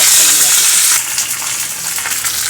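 Mustard seeds and curry leaves sizzle and crackle loudly in hot oil, a steady bright frying hiss that eases slightly after the first second and continues without talk.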